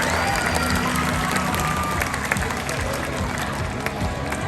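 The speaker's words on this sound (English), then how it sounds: "Let's give him one big round of applause" A large crowd at a Six Flags animal show applauds steadily and continuously, with dense clapping and a few cheers blending into a constant wash of sound.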